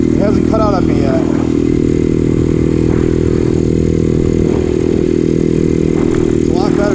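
A 212cc small engine runs steadily after carburetor tuning, a loud continuous buzzing drone close by that holds throughout, with someone speaking briefly over it.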